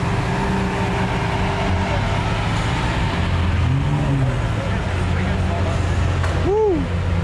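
An all-black Lamborghini Aventador SVJ with red accents revs at a Texas supercar rally, its engine rising in short pitch sweeps over a constant roar of surrounding traffic and crowd noise.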